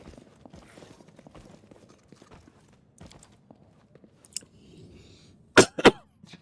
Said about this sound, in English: Please forgive the coughing